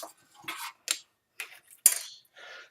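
Plastic spoon scraping and pushing coarse fine-gravel basing material into place on a fantasy tower ramp model, a series of short, close, gritty scrapes and clicks separated by brief silences.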